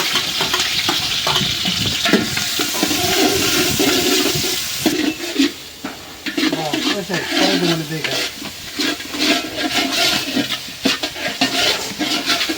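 Onions fried in hot oil in a pot after green chillies go in: a loud, steady sizzle with scraping stirs and clatter from about the fifth second, close and continuous, with no talk over it.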